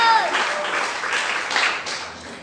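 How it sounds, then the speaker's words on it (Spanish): A church congregation applauds in praise during a Spanish-language service, a brief burst of steady clapping from many hands at moderate distance. "Suelte una alabanza y aplauso al Señor en esta hora."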